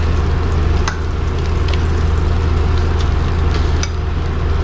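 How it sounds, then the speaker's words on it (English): Butter melts in a pan with a loud, constant close-up sizzle and crackle. A couple of soft clicks from stirring sound over a low background hum. "right now we're gonna let the butter melt down a little bit before I throw in the garlic"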